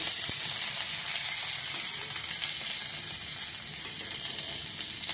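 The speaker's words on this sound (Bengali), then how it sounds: "মাছ ভাজা" Fish sizzles steadily in hot oil in a home kitchen, a dense continuous frying hiss with a few small crackles, close and fairly loud throughout with no talking.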